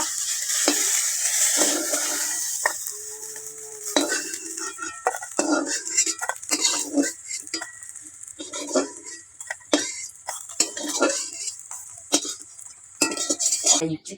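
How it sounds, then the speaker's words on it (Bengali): Fried fish lifted piece by piece from a wok with a utensil, making clinks and scrapes of metal against the pan over a light background sizzle of oil, with irregular bursts of clatter throughout. "এবার আমি এক এক করে কড়া থেকে তুলে নেব।"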